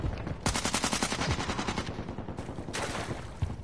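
Rapid automatic gunfire from Call of Duty MW3 comes in two long, loud bursts of evenly spaced shots, close up, with a short gap between them.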